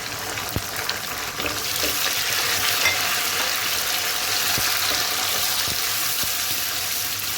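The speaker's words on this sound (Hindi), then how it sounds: "अब इसके अंदर मैं टमाटर और सब्ज़ मिर्चें ये डाल दूँगी।" Chopped tomatoes and green chillies hit a pan of sautéed onions, setting off a loud, steady, close sizzle that continues throughout with a few sharp clinks of a spoon.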